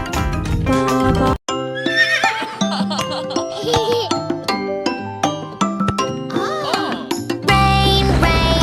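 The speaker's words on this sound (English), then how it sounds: "Neigh, neigh, the horses say" A horse's neigh and whinny are set within a bright children's nursery-rhyme song, with rising and falling calls amid music and a short pause early on.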